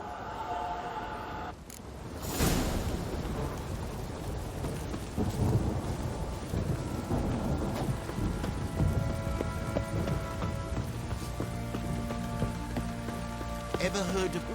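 Heavy rain pours steadily in The Witcher 3 game world, broken near the start by a loud, close crack of thunder that rolls into a long rumble beneath the downpour.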